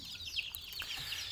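Backyard chickens clucking and chattering close by, several overlapping birds in quick irregular bursts at moderate volume, with no talking.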